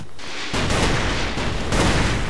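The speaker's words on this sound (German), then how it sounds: "wir haben drei Schuss in diesem Scharfschützengewehr" Sniper rifle fire in the Ace of Spades video game: loud, sharp blasts split by a dense, noisy rush of game sound, with no talking over it.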